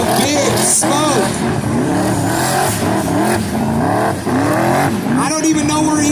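A 1984 Ford Fairmont four-door doing a burnout at a Ford drag-racing event in Bowling Green, Kentucky: a loud, sustained engine roar with rising and falling revs and squealing tires, crowd noise blended in throughout.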